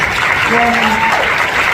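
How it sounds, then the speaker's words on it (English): A short burst of audience applause at a press conference with the main cast of Dune: Part Two, with a voice briefly speaking over the clapping. "Let's give them an applause for this."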